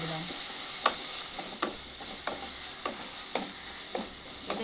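Bengali-style spice paste with a splash of water cooks down in a pan for loitta (Bombay duck) fish curry, giving a steady low sizzle broken by a series of spaced scraping stirs, close and moderately quiet, with no talking.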